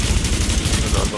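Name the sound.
gunfire in the video game The Division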